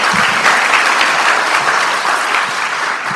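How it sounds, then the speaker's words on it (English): Audience clapping at a Rotary Club scholarship awards ceremony, a steady dense wash of many hands that stays loud and even for the whole few seconds, with no voices over it. "You can clap for him if you want."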